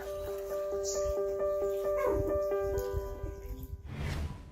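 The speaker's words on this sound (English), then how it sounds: "Yes, that's really a husky at the top of an electricity pylon. It's asking for help by barking loudly." A husky stranded at the top of an electricity pylon barks and whimpers for help, a run of sharp repeated yelps over a steady electrical hum, with a voice briefly heard near the end.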